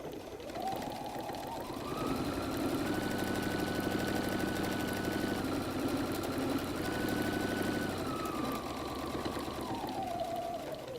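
A sewing machine back stitches a messenger bag with a continuous, even mechanical whir for about eleven seconds, steady and close, with a brief change of pitch at each end.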